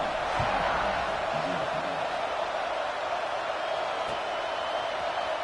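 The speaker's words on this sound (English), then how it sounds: "this crowd is buzzing after that last score" Steady broadband roar of a football stadium crowd in a video game, a continuous loud buzz filling the whole clip with faint scattered voices inside it after a long touchdown return.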